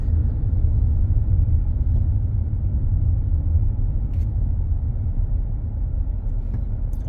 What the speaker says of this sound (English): I'm not sure why there's so much traffic.